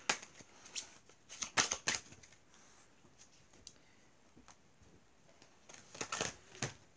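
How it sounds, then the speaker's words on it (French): Tarot cards are shuffled and drawn, giving bursts of quick riffling flutters and soft slaps close by, separated by quieter pauses. "On va retirer 3 cartes."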